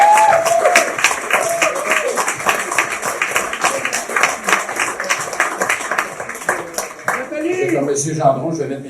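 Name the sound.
applause for Avenir Saint-Jérôme candidates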